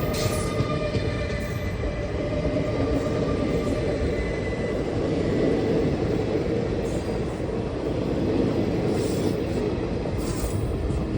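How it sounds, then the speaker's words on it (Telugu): The Kakinada–Tirupati train runs slowly toward Rajahmundry, heard as a continuous loud rumble of wheels and carriages with faint metallic squeal, steady throughout. "కాకినాడ తిరుపతి ట్రైన్ రాజమండ్రి వెళ్తుంది."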